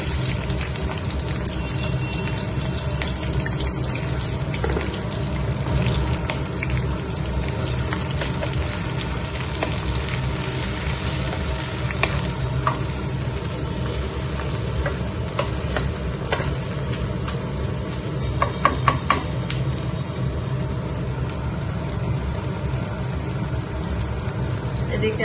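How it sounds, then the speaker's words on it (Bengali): Onions going into hot oil already spiced with cinnamon, cardamom and cloves, frying with a steady, continuous sizzle and occasional stirring scrapes throughout, with a few brief clinks near the end. "আমি এখন দিয়ে দিব তাহলে পেঁয়াজ"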